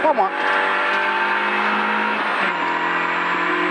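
Loud, close rally car engine holding a steady high drone on a special stage, with brief tire noise at the start and a slight pitch drop partway through, while a voice talks over it.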